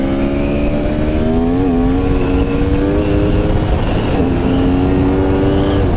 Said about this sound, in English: Handfuls of throttle up here.